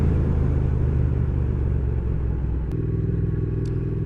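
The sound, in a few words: Triumph Thruxton R motorcycle engine while riding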